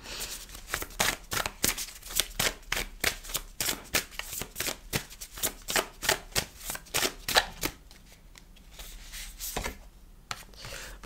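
A tarot deck is shuffled over and over in fast, even riffling strokes that come close and clear, then thin out into quieter handling toward the end.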